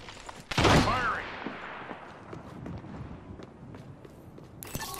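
Burst of gunfire from the battle royale shooter Apex Legends, a loud rapid volley at the start followed by scattered footsteps and small game noises, with a faint voice partly mixed in.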